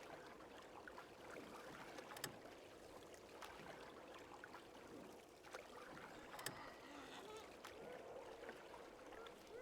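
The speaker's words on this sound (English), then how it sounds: "It's such a nice little boat trip. A nice little canoe ride." Canoe paddled along a canal in the game SCUM, with steady low water wash and splashing, occasional sharper paddle strokes and faint background speech mixed in.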